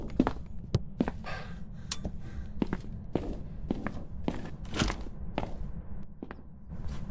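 Footsteps in a ghost-hunting video game: a series of about a dozen sharp, fairly loud thumps at an irregular walking pace, heard alone over a low hum.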